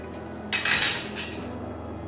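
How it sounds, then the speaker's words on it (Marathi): A metal spoon clinks against a container while powder is added to stored rice, a couple of brief scraping chinks in quick succession, close and alone. "चमचा घेतला आहे, याने 2 चमचे पावडर मी तांदळात टाकून घेते"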